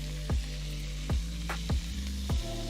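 Shrimp sizzle in a hot hexclad pan for rasta pasta, a steady loud frying hiss broken by several sharp thumps as pieces drop in or the pan is worked, with no talking.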